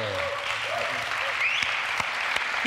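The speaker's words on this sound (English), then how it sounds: "Big round of applause for the panel." Audience applause for a startup growth panel at a conference in Berlin, a steady dense wash of many hands clapping throughout, moderately loud and continuous with a few sharper claps standing out.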